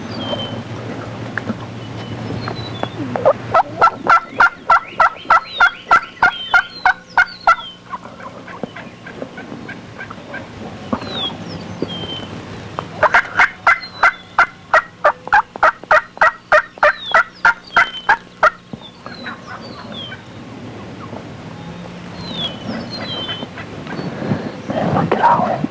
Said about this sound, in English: There's birds gobbling over here.